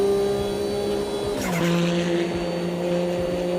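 A race car in the sim racing game Automobilista 2, heard from outside the car: a steady, loud engine drone that drops in pitch as it shifts gear partway through, then holds a lower, even tone.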